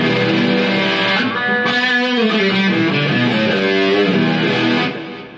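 A guitar run through a different preset bank on a Zoom G2.1Nu multi-effects pedal, producing a sustained effected tone with shifting chords for about five seconds before the sound cuts off, with no talking.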